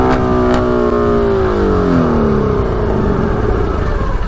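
Custom 110 HP Yamaha Banshee quad engine revving hard and loud, pitch falling and sputtering as it runs out of gas, close by with no talking.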